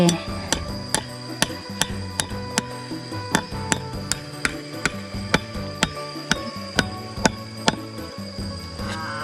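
A hammer pounding nails in a steady, evenly spaced rhythm, with sharp metallic strikes repeating about twice a second, close and clear over a quiet background.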